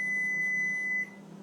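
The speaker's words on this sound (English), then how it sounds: "that beep was telling me that the oven is preheating" A kitchen oven beeps as it finishes preheating, one sustained, piercing electronic tone held steadily for about a second over a low background hum, then cutting off.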